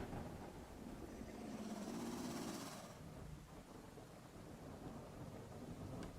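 A video game thunderstorm rumbles low and continuous with a wash of rain, and a heavier roll of thunder swells in the first few seconds before settling back to a steady background storm.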